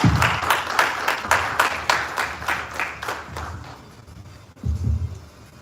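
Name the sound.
audience applause for a speaker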